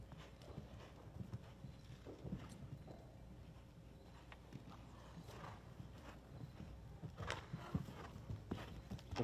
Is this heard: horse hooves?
yes